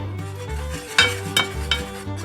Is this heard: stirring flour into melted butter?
yes